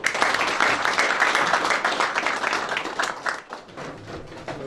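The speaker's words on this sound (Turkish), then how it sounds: "Onu da Satı kardeşimize, Abbas kardeşimiz alkışlarımıza takdim ediyor" Audience applause for a flag presentation at a gathering of two sister associations, steady dense clapping from a crowd that fades toward the end.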